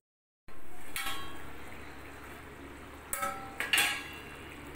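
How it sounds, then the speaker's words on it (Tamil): Chicken pepper masala sizzles steadily in a pan, a soft continuous fry with a few louder clinks and scrapes of a utensil near the end. "பாருங்க சிக்கன் பெப்பர் மசாலா ஃப்ரை ஆகிட்ருக்குது"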